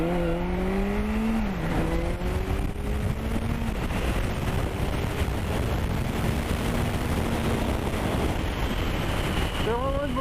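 A Suzuki GSX 1200 Inazuma motorcycle engine revs up in rising, stepped pitches as it pulls away from a standstill and accelerates hard, with wind roar underneath.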